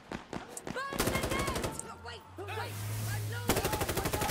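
Rapid automatic gunfire in Insurgency Sandstorm, loud bursts of closely spaced shots at the start and end, with a vehicle engine hum and people talking over the middle stretch.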